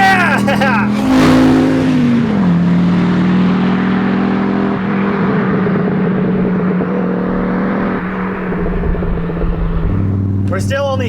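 Audi Quattro engine revving loudly up close, a throaty roar that climbs and holds with a wavering drone, with a shout of excitement over it near the start.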